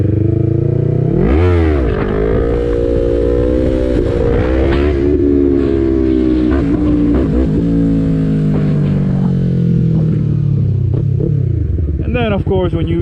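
A 2020 Yamaha MT-03 motorcycle engine revs hard in second gear during a wheelie, rising and holding a strained drone before dropping off, loud and close throughout.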